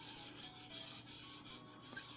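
A faint, scratchy rubbing hiss of Ghostglide Cyclones mouse skates sliding back and forth across a glass mousepad, continuous with small irregular swells.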